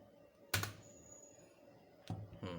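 A single key press on a computer keyboard, heard while installing a BOSS GT-100 driver on a computer, gives a sharp close click, followed by two further soft taps a moment later.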